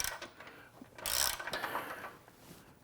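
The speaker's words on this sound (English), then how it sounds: "you might actually need to reverse it and go ratchet on the bolt side" A socket ratchet clicks in short bursts while tightening a bolt on an Ironman 4x4 Raid stubby front bumper being fitted to a Jeep Wrangler JL Unlimited. The clicks are close and moderately loud, with no talking.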